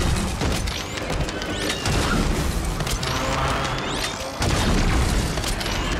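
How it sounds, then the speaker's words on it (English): Airstrike explosions in Call of Duty: Warzone, a dense, continuous barrage of booming blasts and crashing debris lasting throughout, loud and close, with a brief dip before another heavy burst. "Airstrike."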